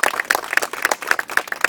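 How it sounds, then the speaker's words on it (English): Applause from an audience at a neighborhood community launch event, a steady patter of many hands clapping, dense and continuous with sharp individual claps standing out throughout. "Let's give them a round of applause again,"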